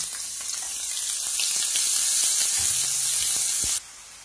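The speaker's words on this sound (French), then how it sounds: "dans une poêle, je fais chauffer un filet d'huile et je commence à mettre l'oignon" Onion hits hot oil in a frying pan and sizzles with a loud, steady hiss close by, cutting off abruptly near the end.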